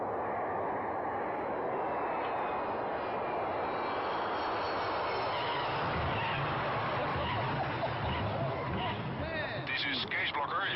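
An airliner landing in Flight Simulator X, a steady roar of aircraft engines throughout with a broad rumbling wash, while voices speak under the noise.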